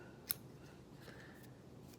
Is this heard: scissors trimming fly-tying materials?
yes